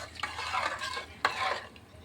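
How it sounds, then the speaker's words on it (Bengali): Ghee being stirred into a dish for a Bhishma Panchak vrat recipe, a spoon scraping the pan in two sweeping bursts with faint sizzling, close and fairly quiet, with no talking. "আবার ঘিটাকে ভালোভাবে মিশিয়ে দিচ্ছি"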